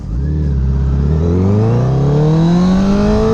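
A motorcycle engine revs hard as the rider pulls away for a country ride, its pitch climbing steadily in one loud, close, continuous acceleration.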